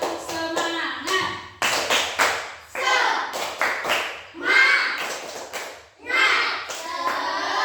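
A class of primary school children stand and perform the 'tepuk semangat' chant, bursts of sharp rhythmic hand claps alternating with loud chanted words in a repeating pattern.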